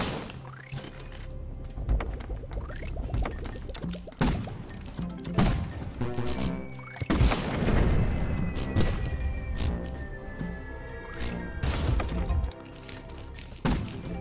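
Grenade blasts in the artillery game Cannon Brawl, a series of sharp thuds and crashing impacts scattered over busy game sounds and music, several loud hits landing close together.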